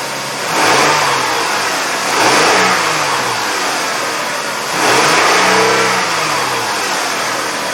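A 2004 Toyota Sienna 3.3L engine, freshly fitted with a new timing belt, runs steadily while being revved three times in slow, even swells that rise and fall back to idle, loud and close with no talk.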